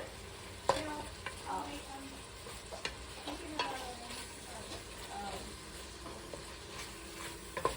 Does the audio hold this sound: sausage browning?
yes